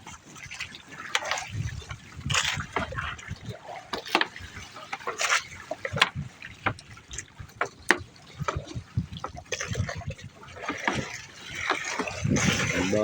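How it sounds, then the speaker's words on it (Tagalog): Water sloshing and lapping around a small fishing boat at sea on a fairly windy night of shrimp netting, with irregular splashes and knocks close by and a steady wash underneath, no one speaking. "Alon-alon."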